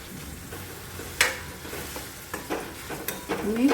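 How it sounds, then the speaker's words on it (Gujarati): Boiled pulses go into a spiced pan with ground coriander-cumin and turmeric, and a spoon stirs them against the metal in scraping strokes over a continuous low sizzle. "હવે આપણે કઠોળ એડ કરી દઈશું."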